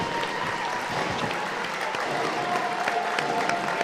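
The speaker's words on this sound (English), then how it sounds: "The standing ovation from the Sandy Park crowd" A rugby stadium crowd at Sandy Park gives a standing ovation as the Exeter Chiefs women take the field, producing steady, dense applause that fills the whole span with a broad, even roar.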